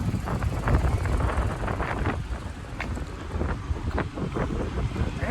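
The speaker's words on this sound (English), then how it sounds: "Windy all of a sudden." Strong gusty wind buffets the microphone outside a car on a Southern California coastal road, a continuous loud rumble and roar with fluctuating bursts and no talk.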